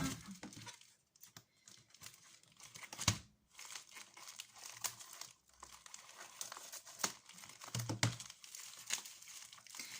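Gift packaging for a canvas or art supply unboxing crinkles and rustles as it is torn open, with irregular crunchy bursts of plastic and paper wrapping close up throughout, no talking.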